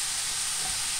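Steady, dense sizzling of tempeh frying in a hot pan, a continuous bright hiss with no voices.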